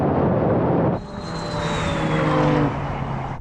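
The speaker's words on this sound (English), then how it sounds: "here comes the McLaren now" McLaren 765LT supercar accelerating in a drag race against a Ferrari 296 GTB and Porsche GT2 RS, a loud engine roar that shifts pitch and builds steadily, heard close and without talk.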